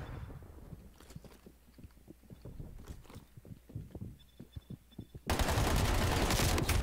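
Rapid gunshots from Call of Duty Black Ops Cold War, a string of sharp, fairly close cracks that ends in a sudden loud, dense burst of fire.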